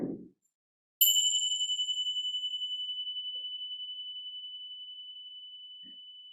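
A single meditation bell is struck once, ringing out clear and bright, its pure tone slowly fading with a gentle pulsing shimmer into near silence.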